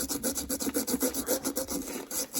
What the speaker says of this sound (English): take a piece of emery cloth that you saw me use in the other video, and I'm just going to kind of clean in here